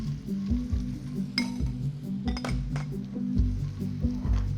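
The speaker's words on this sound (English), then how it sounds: "next ingredient you want to cook dry shrimp" Dried shrimp frying in oil, a soft sizzle beneath repeated clinks and scrapes of a utensil against the pan, close and fairly quiet, no voices.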